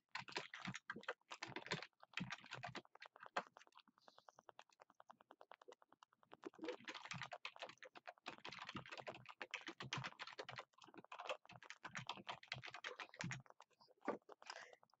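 Someone types on a computer keyboard while filling in an online form: dense, close clicking in quick bursts with short pauses between runs of keystrokes, and no talking.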